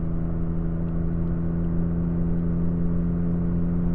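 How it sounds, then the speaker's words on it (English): Engine cooling fan on a Toyota Tacoma fitted with an aftermarket transmission cooler, running in override: a steady, loud, close droning whir with a constant low hum and no change in pitch, with nobody talking. "I have the fan in override."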